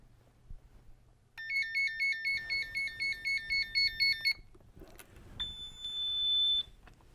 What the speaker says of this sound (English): After 1 minute, the alarm will go off and display high AL and then the temperature.